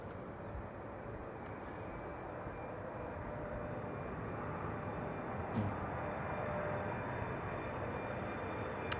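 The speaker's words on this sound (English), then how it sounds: "KLM Flight 622, arriving from Atlanta, Georgia, 777-300." A KLM Boeing 777-300 airliner arriving from Atlanta at Schiphol's Polderbaan produces a continuous low, distant engine rumble that stays even and fairly faint, with no voices.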